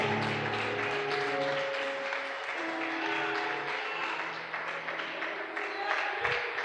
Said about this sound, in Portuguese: Você pode aplaudir o Senhor nesta noite? Aplauda Ele, aplauda Ele,